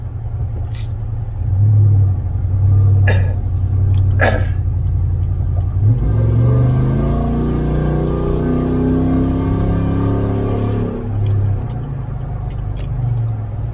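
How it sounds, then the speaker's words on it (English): A car drives around a bus in the left lane, giving a continuous engine and road rumble that swells into a louder revving stretch midway before settling back, with no talk. "had to go around a bus in the left lane with their blinkers on"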